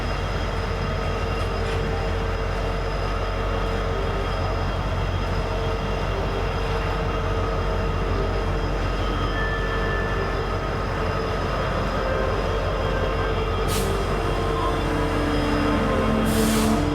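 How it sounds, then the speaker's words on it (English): Long BNSF unit freight trains roll past in Kansas City, a steady, low rumble of wagons heard from a distance with occasional brake hiss and faint squeals near the end. "Two BNSF unit trains would pass before the Supercab would finally show up."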